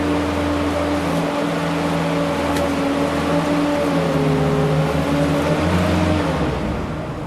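A boom lift drives one wheel up onto a 6-inch rise during a pre-start inspection, its engine running as a steady, loud mechanical drone with a slight rise in pitch midway before easing off, no voices over it.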